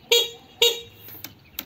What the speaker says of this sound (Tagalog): Try natin ulit yung busina.